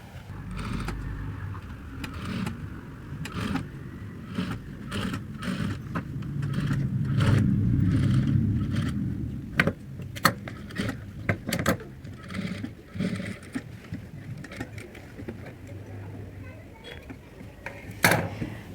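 A sewing machine runs a line of edge stitching along the folded fabric of a blouse sleeve patch, a steady close mechanical whirr broken by short pauses and sharp clicks.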